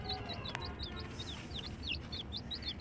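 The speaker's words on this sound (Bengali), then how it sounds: "আমার ছাদের উপরে দুইটা মুরগির বাচ্চা থাকে" Rapid high-pitched peeping of chicks, repeated thin chirps in quick succession over a faint background hum, fairly quiet and close.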